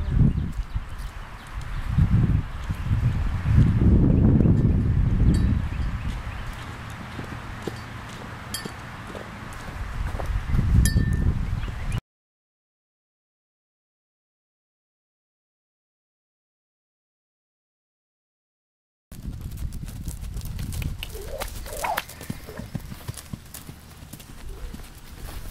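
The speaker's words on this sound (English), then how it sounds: "He's got a nice canter though." A palomino Tennessee Walker gelding canters with rhythmic hoof clip-clops on the ground, broken by a long stretch of silence midway, with some talking in the background.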